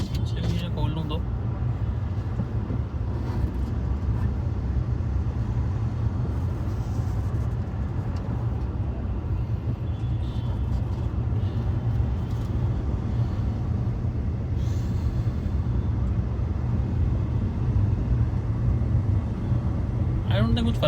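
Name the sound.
road traffic jam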